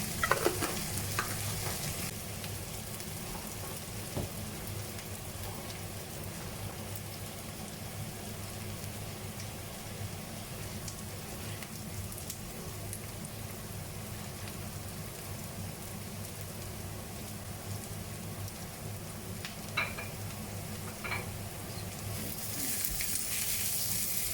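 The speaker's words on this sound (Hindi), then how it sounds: "और इसके साथ मैं ये जो चिकन है ये मैं इसमें डाल दूँगी और इन सारी चीज़ों को मैं मिक्स कर लूँगी" Chicken sizzling in a hot pan while being mixed, a continuous even crackle with faint scraping stirs throughout, close and steady, rising slightly louder near the end, no speech.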